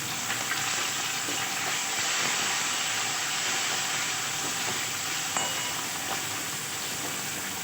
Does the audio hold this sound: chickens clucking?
no